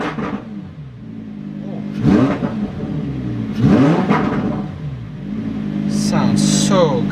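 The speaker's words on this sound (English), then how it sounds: "Rev it up in Corsa mode." A 2018 Lamborghini Huracan Performante engine in Corsa mode revs loudly twice in sharp rising bursts over a steady idle, then settles and climbs again toward the end.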